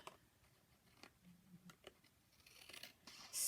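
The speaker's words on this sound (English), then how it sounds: "Hopefully I can cut it down on this side without cutting the stitches." Scissors snip through the fabric pocket of a journal in a few quiet, close cuts, ending in a louder rustle.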